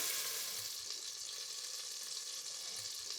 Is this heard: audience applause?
no